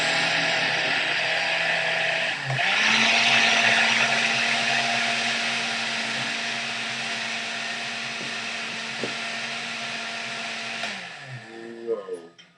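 A blender whirs loudly and steadily while mixing a banana breakfast smoothie, the motor tone dropping slightly as the full jar churns before it stops with clunks near the end.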